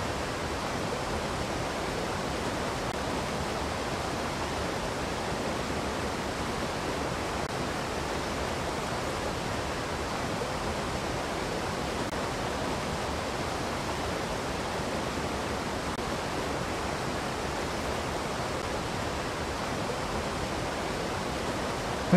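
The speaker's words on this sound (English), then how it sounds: "We'll try up towards the waterfall." Continuous broadband rush of a waterfall in the fishing game The Angler, a steady, even roar that holds at constant loudness throughout with no talk over it.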